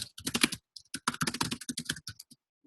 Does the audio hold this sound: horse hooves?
no